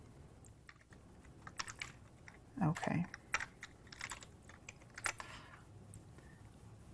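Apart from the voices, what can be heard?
typing on a computer keyboard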